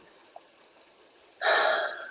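During a guided meditation, a single deep, airy inhale through the nose swells up loudly and close after a quiet stretch, fading slightly as it ends.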